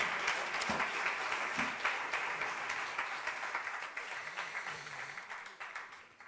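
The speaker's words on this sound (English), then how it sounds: "So I completely agree with your applause." Summit audience in a Madrid hall applauding, a dense sustained clapping that slowly fades and thins toward the end, with scattered individual claps audible as it dies away.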